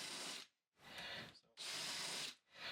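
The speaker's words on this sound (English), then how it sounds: "on a piece of timber, I just give it a little shot just to widen out that countersink a bit" A power drill widens a countersink in thin timber about 1mm thick, whirring in two longer bursts and one shorter one, with brief quiet gaps between, close and fairly loud.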